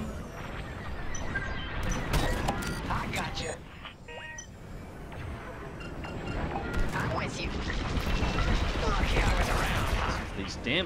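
Starfighter blaster fire in a Star Wars: Squadrons space battle, sharp rapid zaps and clattering hits over engine noise, with voices talking throughout.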